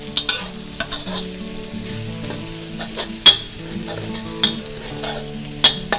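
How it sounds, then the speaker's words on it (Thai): Bird's eye chilies stir-fried in a wok for shrimp with chilies, a steady sizzle broken by sharp scraping clacks of the spatula at irregular intervals, close and clear with no talking. "เราก็จะผัดไปเรื่อยๆแบบนี้จน พริกที่หนูส่งกลิ่นหอมดีเลยนะคะ"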